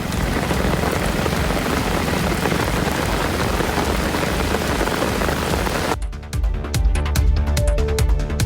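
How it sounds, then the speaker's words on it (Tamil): Light rain falls in a district of Tamil Nadu during a thunderstorm, a dense, loud, steady hiss of drops. Partway through it shifts to closer, patterings of drops with low rumbling underneath. "இடி மின்னலுடன் கூடிய லேசான மழை பெய்தது"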